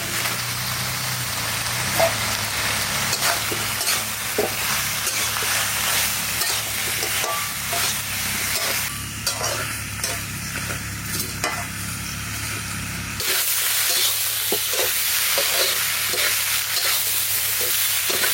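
Duck meat and potatoes sautéing in a pot, cooked outdoors in the rain, with a loud, continuous sizzle and frequent stirring scrapes and clatters that sharpen after a brief dip midway.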